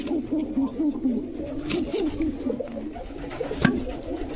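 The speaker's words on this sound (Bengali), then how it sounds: "এই পায়রাটা যেটা দেখছেন খুবই সাহসী একটা পায়রা" A pigeon coos in a soft, repeated rolling rhythm, close and steady, over a faint background hum.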